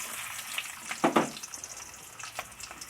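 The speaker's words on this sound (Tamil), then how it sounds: "ஒரு பேன் வச்சுருக்கேன், அது ஹீட் ஆகிட்டு ஆயில் ஊற்றிக்கிறேன். சின்ன வெங்காயம் சேர்த்துக்கிறேன்." Shallots frying in hot oil in a pan, a quiet continuous sizzle with a louder crackling burst near the middle and light stirring.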